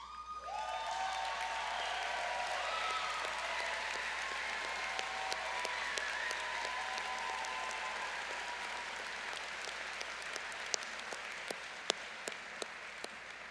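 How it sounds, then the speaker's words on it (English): Sustained applause from a commencement audience honoring faculty and department chairs, a broad, even roar of many people clapping at a distance that carries on for over ten seconds, with a few sharp nearby claps toward the end. "please stand so that we may applaud their contributions to the success of today's graduates"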